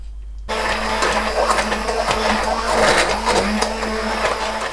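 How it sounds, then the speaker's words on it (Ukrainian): A blender whirs steadily after a short quiet start, pureeing cooked plums, a loud continuous motor drone with a shifting, churning texture as it runs. "Сливи я проварила, трошки остигли і буду збивати блендером."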